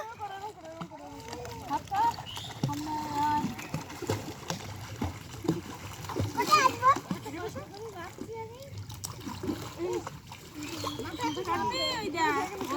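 A four-year-old boy swimming in a village pond, with soft intermittent splashes and water movement beneath near, continuous encouraging adult talk and a voice.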